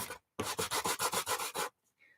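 A painted wood sign gets roughed up by hand with something like a sanding pad, giving about eight quick rhythmic rasping strokes, close and clear, then silence.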